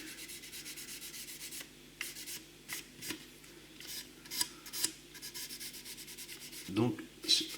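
Sandpaper of 400 grit rubbed by hand over car bodywork before painting, giving soft, steady scratchy strokes at close range with a few louder swipes near the end.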